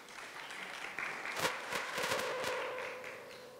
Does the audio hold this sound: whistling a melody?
no